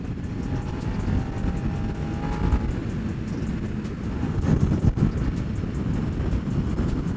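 A motorcycle ridden on a windy day, heard as steady low rumbling wind buffeting and road roar that holds constant throughout, with no voices.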